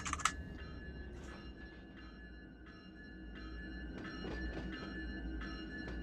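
SD70 locomotives running in the Run 8 train simulator game, a low steady diesel rumble with faint rail clatter, punctuated by keyboard clicks and short electronic tones over the top.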